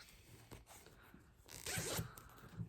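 A zip on a fabric knitting bag with a handle is pulled open, a quiet close rasping zipper run with a few ticks and then a louder sustained burst near the end.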